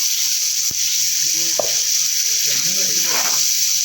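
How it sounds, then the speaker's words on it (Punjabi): Vegetable gravy bubbles and sizzles steadily in a pan while being stirred, with a couple of soft knocks from the spoon against the pan. "ਇਹਨੂੰ ਹੌਲੀ ਹੌਲੀ ਇਸ ਤਰ੍ਹਾਂ ਚਲਾਉਂਦੇ ਹੋਏ ਪਕਾ ਲੈਣਾ ਵਾ"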